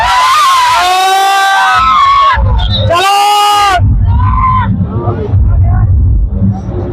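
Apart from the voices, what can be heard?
dense crowd at the Kartikeshwar fair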